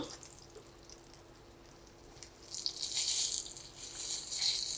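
Chicken pieces frying in a little oil on low heat for a chicken burger, a quiet steady sizzle that swells into louder crackling bursts partway through, with no talking.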